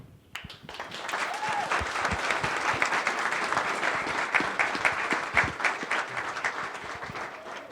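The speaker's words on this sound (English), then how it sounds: "So I want to give a round of applause to Francis and Diane Oliosi, Nick's grandparents, and Joyce Martin, Dana's grandmother." Wedding reception guests at The Haight give the grandparents a warm round of applause, a lively sustained patter of many hands with a few cheers, moderately close.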